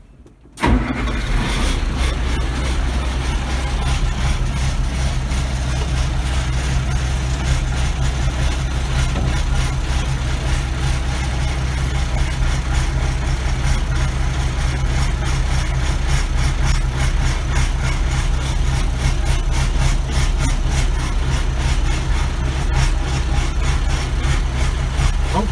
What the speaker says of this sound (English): Let me give it just a little gas and see if it'll start.